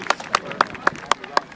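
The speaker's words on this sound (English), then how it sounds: "ladies and gentlemen, let's have a big cheer for 189" Scattered crowd clapping at a British Masters grasstrack meeting, six sharp spaced claps in a slow uneven rhythm, fairly close and thin rather than a full ovation.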